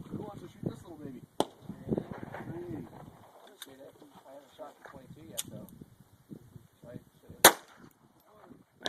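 Gunshots at an outdoor shooting range, handgun practice: a few sharp isolated reports spaced several seconds apart, one loud and close near the end, with people talking between shots.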